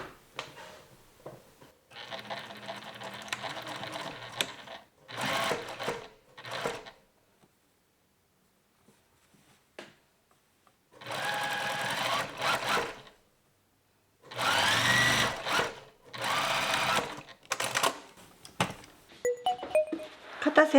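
A sewing machine stitches the shoulder seam of a high-neck coat in several separate bursts of close, rapid whirring, with short pauses and one longer gap between runs.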